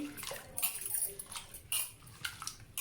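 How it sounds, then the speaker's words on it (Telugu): Soaked lentils are swished and rinsed in water, with intermittent sloshing splashes and light clinks of a pot, close and fairly quiet. "ఇది ఒకసారి వాటర్లో కడిగేసుకుందాం"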